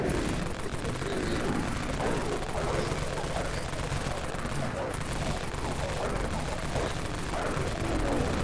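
Dawn AR rifle in the video game Dead Frontier, Deep Wastelands area, firing a sustained rattling stream of automatic gunfire, steady and fairly loud from start to finish.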